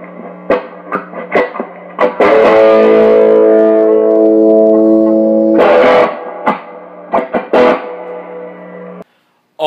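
Electric guitar with a wiring harness, bridge humbucker and neck single coil wired out of phase in series, giving a hollow, nasal distorted tone: short muted stabs, a long sustained chord, more stabs, then silence.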